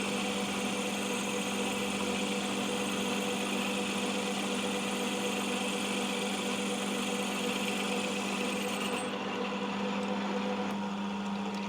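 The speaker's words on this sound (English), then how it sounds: "Disengage the auto feed, that's the noise you're hearing." A metal lathe machining aluminium drones with a steady mechanical whir and hum, then the auto feed disengages near the end, leaving a lower motor hum.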